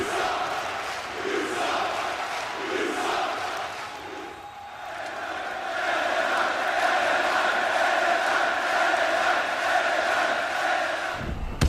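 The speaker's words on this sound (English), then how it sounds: "The crowd are not happy that The Rock has the upper hand." A wrestling arena crowd reacts with sustained shouting and booing during a match between The Rock and LA Knight, a continuous roar that dips briefly then swells louder.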